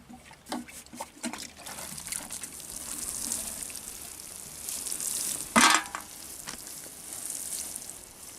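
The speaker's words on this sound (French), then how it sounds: "Arrose abondamment." Water poured generously over freshly transplanted leek seedlings in a garden bed, a soft continuous splashing and trickling with a few sharper splashes, fairly close and steady.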